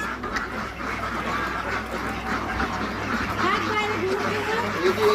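Ducks quacking on a small farm, a busy chorus of overlapping quacks and honks close by, continuous under faint background voices.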